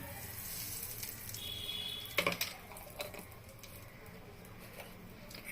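A dried red chili and a pinch of asafoetida fry in hot oil, making a soft, steady sizzle with a short burst of crackling pops midway.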